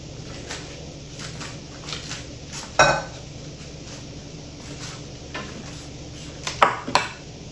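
Boiled pasta is mixed into a mango, chickpea and vegetable salad in a bowl, with a utensil scraping and clinking against the dish, including a few sharper knocks, under a low background hum.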